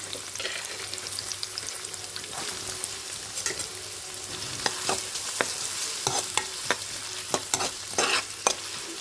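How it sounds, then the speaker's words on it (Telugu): Chopped onion pieces sizzle in a pan while being stirred, giving a soft ongoing fry hiss punctuated by frequent sharp spoon clicks and scrapes against the metal, close and moderately quiet. "ఇప్పుడు ఉల్లిపాయ ముక్కలు వేసుకుని కొంచెం వేయించుకోవాలి"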